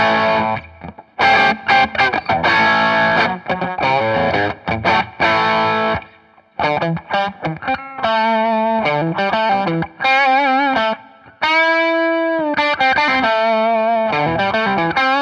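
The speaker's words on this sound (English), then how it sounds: "that's with the Boss Super Overdrive" A WestCreek Double Trouble budget double-neck electric guitar played through a Boss Super Overdrive pedal, loud and close, with crunchy strummed chords followed by sustained overdriven single notes and short phrases with brief pauses.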